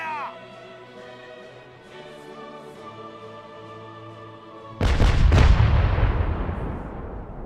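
A ship's cannons fire a broadside in the pirate game Caribbean Legend, a heavy booming burst that arrives after several seconds of quieter tonal background and then rolls out into a long, loud decaying rumble.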